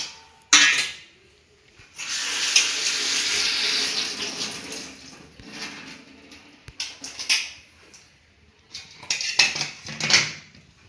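Amla gooseberries are washed in water under a running tap, with bursts of splashing and gushing broken by quieter gaps and occasional clinks of a bowl or utensil.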